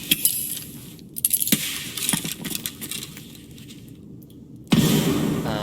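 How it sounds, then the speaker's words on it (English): A grenade thrown in the Escape From Tarkov video game brings metallic clinks and rattles followed by a swishing handling noise, then a sudden louder burst of movement near the end, with no voices. "left clicking, your player will chuck their grenade like far, he'll throw it"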